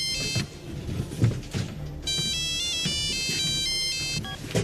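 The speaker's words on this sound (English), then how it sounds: "The phone, that stupid jingle from the store, I heard it." A cell phone plays a bright electronic ringtone jingle in the film Jurassic Park III, repeating melodic beeps loud and clear after a stretch of rustling background noise.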